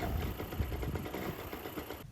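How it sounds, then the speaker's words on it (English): Moster 185 paramotor engine idling while it warms up after a carburettor rebuild, a close, steady, rapid mechanical putter that runs evenly and then cuts off abruptly at the end. "I let the engine warm up before fine-tuning"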